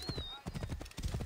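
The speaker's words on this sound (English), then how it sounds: "Horse! You're a horse, of course." A horse in Assassin's Creed Origins clops along in quick, close hoofbeats, with a high whinny sounding near the start, under faint voice activity.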